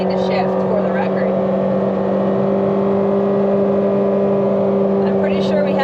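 A Lamborghini Temerario engine holds a loud, steady high-rev drone from inside the cabin, with faint voices in the background.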